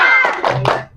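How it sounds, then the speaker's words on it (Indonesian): Children in a school volleyball lesson clap a quick spirit clap. Three sharp claps come in rapid rhythm right after a brief voice. "Coba tepuk semangat."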